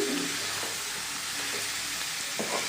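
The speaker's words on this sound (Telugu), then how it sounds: "ఈ చిన్ని చేపలు ఇందులో వేసేసుకోవాలి వేసుకుని నెమ్మదిగా కలుపుకోవాలండి" Small fish frying in a pan for tamarind fish curry, with a steady loud sizzle and soft stirring scrapes throughout, no voices.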